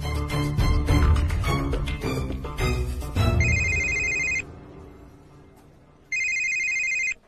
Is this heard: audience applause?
no